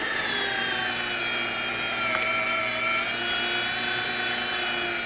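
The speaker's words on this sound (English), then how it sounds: "Time to grind the meat." An electric meat grinder with a coarse plate grinds cold pork and beef for cheesy garlic summer sausage, running as a steady, loud motor whine with a constant hum throughout and no talking.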